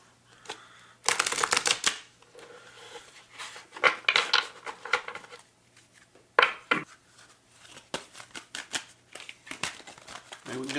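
Rumi oracle cards being shuffled, bursts of papery riffling and flicking in several separate rounds with short pauses between, close and fairly loud.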